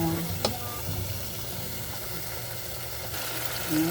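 Steady sizzle of sautéing in a casserole pot, frying continuously at moderate level with a brief clatter near the start and a stir toward the end.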